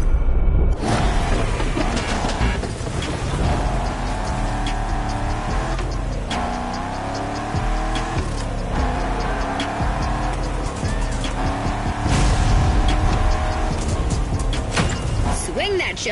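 A car drifting downhill in the racing game The Crew Motorfest, its engine revving steadily with rising and falling pitch and tires squealing throughout, continuous and loud.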